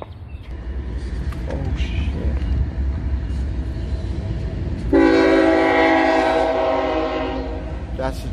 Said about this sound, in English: That's a train, loud as hell